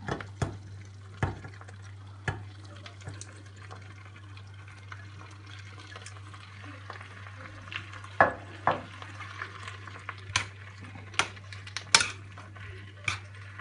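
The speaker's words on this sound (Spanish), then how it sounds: "Y removeremos, que se impregne bien con la salsa de espinacas y tomate." Pasta being stirred into a spinach and tomato sauce in a pan, with steady soft sizzling under a low hum and repeated sharp clinks and scrapes of a utensil against the pan, no talking.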